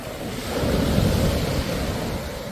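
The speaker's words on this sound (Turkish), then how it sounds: "Bugün de çok dalgalıymış deniz." Rough, choppy sea on the Aegean coast near Çeşme, Karaburun and Mordoğan crashes close by in a loud, steady roar of surf with wind noise and no voices.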